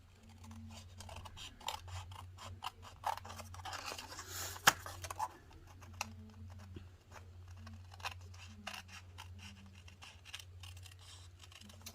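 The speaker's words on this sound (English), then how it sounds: "you take your snips and you're just going to give this a little trim here" Craft snips trim cardstock for a Halloween gnome greeting card, giving a series of small, crisp, quiet cuts and scratchy snips close by, with no talking.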